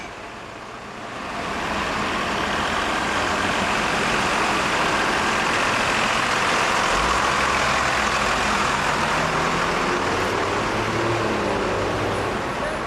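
Heavy road engine noise from an AEC Routemaster double-decker bus, RM 2217, turning onto London's South Circular Road, a steady loud rumble with traffic around it, rising after the first second and holding for the rest.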